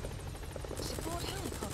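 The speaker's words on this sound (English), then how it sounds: "that helicopter is fucking killing people" Helicopter in the video game Metal Gear Solid V, a steady rotor and engine drone with gunfire-like bursts mixed in, running continuously under a speaking voice.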